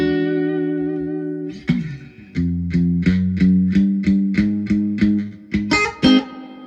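An electric guitar plays through a 1972 Super Reverb amplifier with its reverb engaged: a long sustained chord decays, then a run of rhythmic repeated picked notes rings out with a lingering reverb tail, loud and close, without talking.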